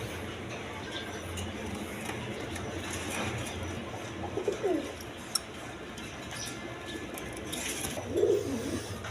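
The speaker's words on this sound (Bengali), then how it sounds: "এখানে এক পেয়ার খাকি কবুতর আছে দেখেন" A pair of milky khaki pigeons coo softly in a pen, with a few low throaty calls standing out now and then over a steady murmur of background noise.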